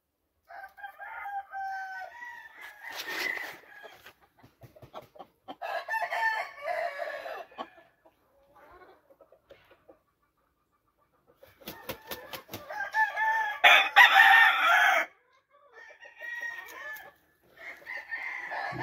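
Brown-red Toppy game hens and a rooster on a spring farm, with a cock crowing loudly and hens clucking in repeated bursts separated by quiet gaps, fairly close by.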